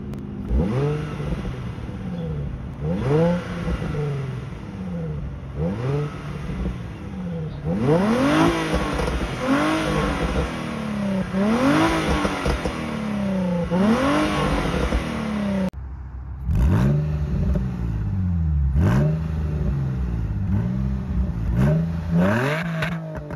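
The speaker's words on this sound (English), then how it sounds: "here's a clip of the 350Z with the stock exhaust system, and then following that will be the HKS" A Nissan 350Z engine revs repeatedly through its stock exhaust, a throaty tone with pitch rising and falling in a steady series of blips, loud and close, with a brief pause partway.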